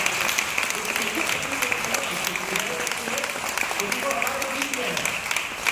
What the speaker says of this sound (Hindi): एक बार जोरदार तालियां बजाएंगे खुदा के लिए।